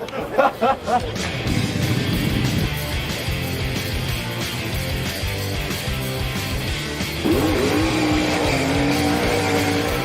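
Race car engine in the NASCAR Heat 5 video game, a C21 Pro Cup car at Atlanta, droning loudly and steadily throughout, revving higher near the end, with a few brief bursts at the start.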